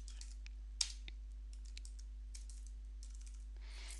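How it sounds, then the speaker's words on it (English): Quick, light keyboard typing, scattered clicks coming in short bursts with one sharper key strike, close by over a low steady hum. "So I could start typing in people's names"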